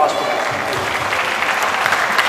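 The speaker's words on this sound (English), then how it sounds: "Big round of applause for that." Steady applause from an audience at a One FC: Rise of Heroes press conference in Manila, a dense patter of clapping with voices mixed in.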